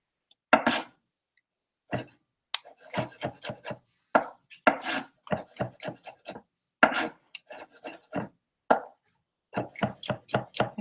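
Knife chopping four big portobello mushrooms on a cutting board during a meal-prep batch cook, with irregular bursts of sharp, close thuds and slicing strokes and short pauses between, no talking.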